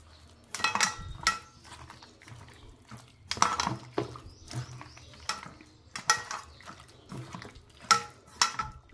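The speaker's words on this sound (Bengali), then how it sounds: "এবার দিয়ে এটাকে ভালো করে মাখিয়ে নেব।" Raw chicken being mixed by hand with a cracked egg and spices in a bowl, giving wet squelching slaps and clinks against the bowl in irregular bursts, close and fairly quiet.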